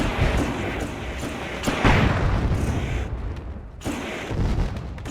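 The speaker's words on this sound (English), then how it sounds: "the fireworks go off here at Eldora Speedway" Fireworks going off at Eldora Speedway in the iRacing sim, a series of loud booming bursts and crackles that fill the clip and briefly drop away before resuming.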